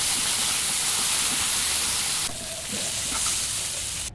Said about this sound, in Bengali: এখন ওই একই তেলে ঢ্যাঁড়স একটু লালচে করে ভেজে নেব।